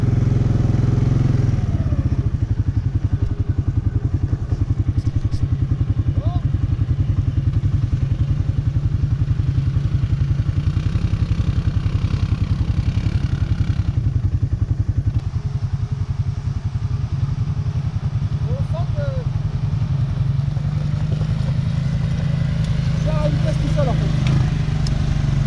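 Can-Am quad ATV engine running steadily on a steep downhill slope with braking, a loud continuous drone with clattering and thumps from the machine over rough ground.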